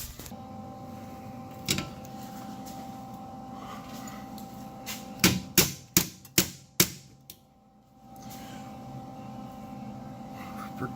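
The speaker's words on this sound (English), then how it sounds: "Sweet hammer." A run of five sharp, loud hammer blows on metal brackets during a Ford F100 truck build in a garage, struck in quick succession after a lone earlier strike, over steady shop hum.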